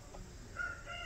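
A chicken's short crowing or clucking call rises over a steady background hum, brief and moderately close.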